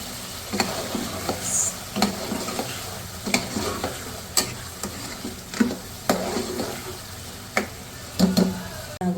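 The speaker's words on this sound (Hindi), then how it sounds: "फ्लेम को हम कर देते हैं ज़्यादा, और इसकी हम करेंगे भुनाई।" Mutton bhuna gosht masala sizzles in oil over high flame while a spoon scrapes and stirs the pan in regular strokes, frying crackle steady underneath.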